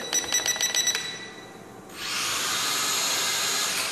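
A Syma X5C quadcopter drone lifts off and hovers: its high, even whirr starts midway and holds steady and fairly loud, after a choppy, pulsing stretch of mechanical buzzing.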